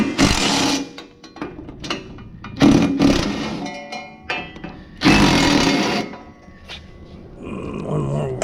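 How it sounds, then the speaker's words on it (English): An impact driver backs out small 10 mm bolts on an MTD mower deck, giving several loud, rapid rattling hammer bursts separated by short pauses with softer handling clatter in between, close to the listener. "So I'm going to power those out with my impact driver."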